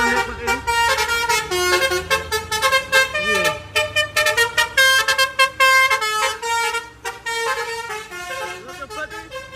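A telolet bus horn plays a rapid melody of bright, pulsing multi-tone honks that shift pitch in quick staccato runs, loud and close, continuing throughout with brief gaps.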